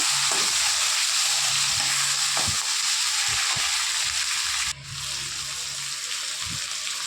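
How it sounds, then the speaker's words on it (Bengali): Diced onion, tomato, capsicum and green chilli frying in hot oil for chilli soybean, with a loud, steady sizzle and occasional scraping stirs and knocks of the spoon. "সেগুলো তেলের মধ্যে দিয়ে দিলাম। হালকা নাড়াচাড়া করব।"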